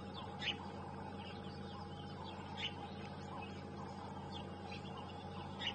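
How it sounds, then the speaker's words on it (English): A squirrel gives faint, repeated chirping calls every couple of seconds in the bush at sunrise on a safari drive, over a steady hum of vehicle and ambient noise. "Yeah, I'm hearing a squirrel."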